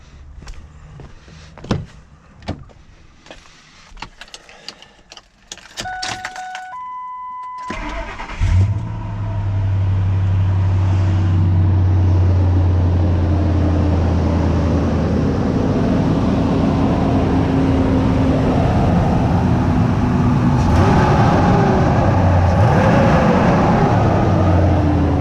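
A 1997–2002 Ford Expedition fitted with a Volant cold air intake cranks with a few clicks and clunks, catches around eight seconds in, then settles into a steady, loud idle with fan noise that holds to the end.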